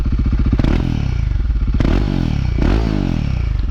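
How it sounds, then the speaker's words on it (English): A Royal Enfield Guerrilla 450 motorcycle engine rumbles close by with a throbbing low idle, briefly revved a couple of times with rising and falling pitch, no voices. "I'm going to go ahead and turn the bike on."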